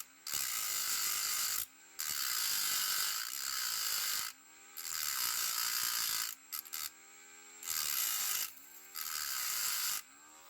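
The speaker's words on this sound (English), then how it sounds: "So I'm just using Dremel, the cut off wheel, and just taking off those little sort of clasp pieces" A Dremel cut-off wheel grinds the clasp pieces off a die-cast Corgi Whizzwheels Bertone Carabo model, sounding as a loud, shrill whine in about six steady bursts with short gaps between them.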